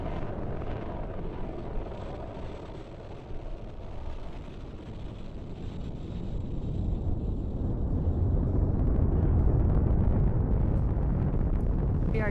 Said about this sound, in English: we are currently firing all 9 of those M1D engines